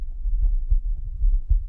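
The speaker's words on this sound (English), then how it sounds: "I hear a heartbeat" A low, muffled heartbeat thumps in the horror video game Sunset Humanity, with several soft, deep pulses in an uneven rhythm over a faint hum, heard alone without talk.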